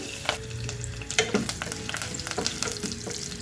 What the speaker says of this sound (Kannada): ಕರಿಬೇವಿನ ಸೊಪ್ಪನ್ನು ಕಟ್ ಮಾಡಿ ಹಾಕ್ಕೊಳ್ತಾ ಇದ್ದೀನಿ